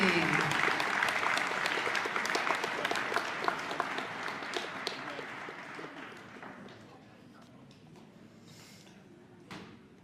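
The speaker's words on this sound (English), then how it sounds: "Let's have one last round of applause for the 1982 golf team." Audience applause at a school Hall of Fame ceremony honoring a 1982 golf team, a loud round of clapping that gradually thins and fades, ending in scattered claps.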